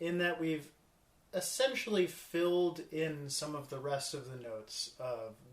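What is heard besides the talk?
No everyday noises stand out.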